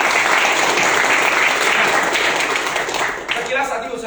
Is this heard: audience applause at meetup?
yes